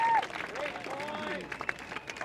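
A crowd applauding at a professional pickleball doubles match, a steady wash of clapping and cheering from the stands heard a little distant under a commentator's voice.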